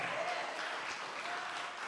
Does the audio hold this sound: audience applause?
yes